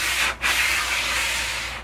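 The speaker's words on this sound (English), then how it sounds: "You want to make sure that this is scratched up really nice with some 80 grit, so that it sticks." A solid surface panel is scuffed with 80 grit sandpaper in steady, close, raspy strokes with a brief pause, and no voices.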